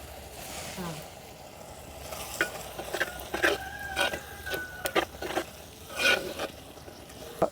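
Mushroom curry sizzles in a pan after spice powder goes in, while a spoon stirs it in repeated scraping strokes. Light frying hiss runs underneath, heard up close in a home kitchen.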